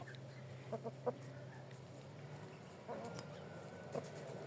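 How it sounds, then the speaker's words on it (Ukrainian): An Orpington or Brahma hen clucks in a farmyard, a few soft, faint clucks spaced out over a quiet background hum. "А вон там яка курочка чудова."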